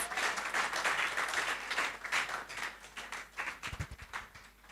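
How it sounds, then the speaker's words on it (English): Audience at a virtual assistant career talk giving a round of applause, dense continuous clapping from a crowd at moderate distance, fairly quiet and thinning toward the end. "I think she deserves another round of applause"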